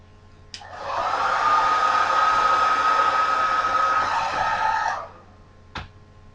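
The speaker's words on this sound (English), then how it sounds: "we're going to go back through with our blow dryer." A blow dryer used on a hair weave whooshes steadily for about four seconds with a high whine, switched on and off with sharp clicks, nearby and fairly loud.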